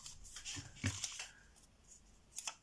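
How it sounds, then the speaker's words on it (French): Scissors snip through a strip of tape while making a handmade card, a few short quiet cuts and rustles close by, with faint background noise and no talk. "Je vais venir couper."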